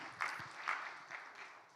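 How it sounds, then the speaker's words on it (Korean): Church congregation applauding to welcome newcomers during a Wednesday worship service, a short burst of clapping swelling in a few soft waves, fairly quiet and moderately distant. "우리 그런 분들에게 박수로 환영합니다"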